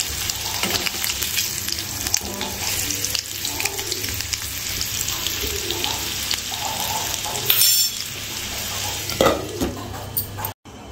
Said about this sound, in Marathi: छान तांबूस रंगावर हे बटाटे आपण तेलामध्ये वाफळून घेणार आहे.